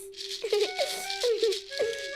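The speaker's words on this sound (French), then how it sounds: "Elle a de la chance d'avoir une maracas." A maraca from a children's cartoon is shaken in quick bursts, a dry close rattle of beads pulsing several times alongside a steady tonal musical note.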